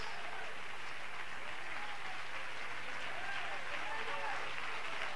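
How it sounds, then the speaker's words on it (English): Young people in a church service clapping for one another, a dense, sustained round of applause filling the room while a voice speaks over it. "Are you clapping for one another?"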